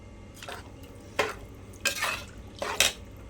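A spoon scrapes and stirs vegetable biryani in a metal pot, four distinct scraping strokes spaced about a second apart, close and fairly clear over a faint background hiss, no voices.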